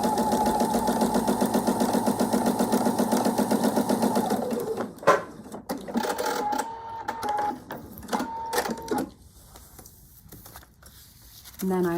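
A sewing machine stitching along a marked line on fabric, a fast, steady mechanical whirring for about four seconds, followed by quieter handling and shuffling noises of the fabric.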